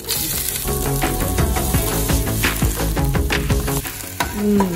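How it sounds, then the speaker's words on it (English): Finely chopped onion frying with lemongrass, pandan leaf and curry leaf in a pan for a beef and potato curry, crackling in a loud, dense sizzle with clinks and scrapes of stirring, with no voices. "Next, we're going to add in finely chopped onion."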